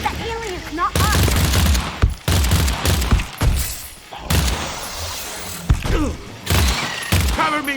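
Gunfire in the alien-shooting video game EarthFall, with loud bursts and rapid volleys in quick succession, under and between shouting voices, along with some game effects.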